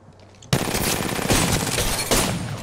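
Rapid automatic gunfire in the video game Apex Legends, a dense, loud burst of shots running continuously for about two seconds after a sudden start.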